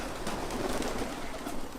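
Pigeons coo softly amid a flock, low murmuring calls blending with faint ambient rustle outdoors, brief and quiet with no one speaking.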